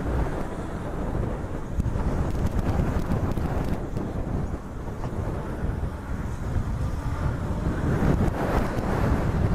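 Strong gusting wind roars across the microphone outdoors while SG906 Beast Pro and Holy Stone HS720E drones are flown, a loud, steady rumbling buffet throughout with no voices.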